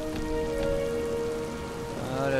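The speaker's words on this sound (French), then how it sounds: "Il pleut" Steady in-game rain from the video game Miasmata pours onto surfaces as a dense, even hiss with no voices.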